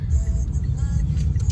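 Heavy road traffic with a steady low rumble of car engines and passing vehicles, close and continuous, with no speech.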